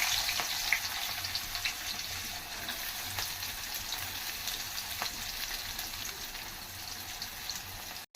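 Chopped onions and cumin seeds fry in hot oil, giving a loud, constant crackling sizzle close by that holds steady throughout without talk.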